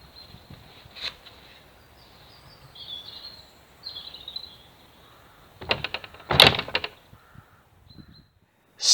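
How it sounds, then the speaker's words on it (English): An old village church door in Kent swings open with a brief creak and a couple of wooden knocks and thuds, set against quiet outdoor air and occasional bird calls. "Let's go through that door."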